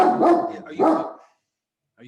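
A dog barks twice in quick succession indoors, fairly close and loud, then falls quiet before a faint voice or sound returns at the end.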